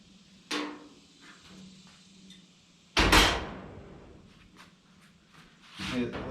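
A car door on a repair project, at the A-pillar where the front plate is being fitted, rattles and knocks as it is moved on loose hinges. Three sharp clunks land at separate moments, with speech between them.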